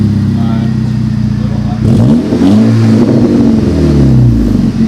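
A Volkswagen MK6 GTI engine with a new downpipe exhaust revs with a deep, rumbling note, rising and falling in pitch several times, heard up close.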